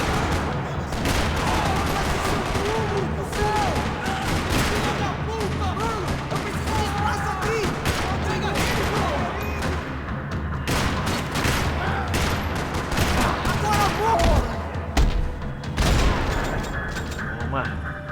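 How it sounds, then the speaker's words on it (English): Sustained bursts of rapid gunfire rattle almost continuously in a parking lot in Max Payne 3, loud and dense, with crashing impacts layered over an intense action soundtrack. "Another parking lot rattling with gunfire."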